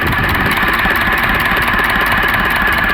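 An URSUS C-325 tractor engine, freshly through a full overhaul and being run in, idles steadily with a dense, even mechanical chatter and rapid knocking pulse, close and loud with no voices.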